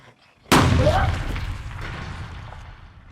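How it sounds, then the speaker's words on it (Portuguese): A single loud gunshot cracks sharply and rolls into a long fading boom and echo, after a moment of near silence. "Um tiro."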